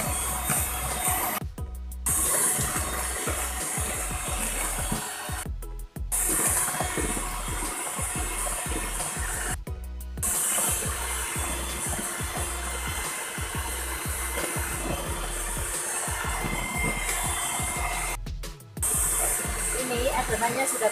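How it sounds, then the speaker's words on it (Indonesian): An electric mixer beats sukade sponge-cake batter made with two eggs at high speed, giving a loud, steady whirring drone broken by a few short pauses. "Lalu kita mixer dengan kecepatan tinggi sampai kental berjejak."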